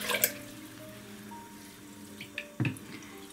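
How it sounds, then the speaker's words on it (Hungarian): Water draining out of seed-sprouting containers at home, a thin continuous trickle with occasional drips and small clinks of the vessels, fairly close and quiet, with no talking. "Így nyugodtan kifolyik belőlük a víz, nem kell türelmetlenkedni."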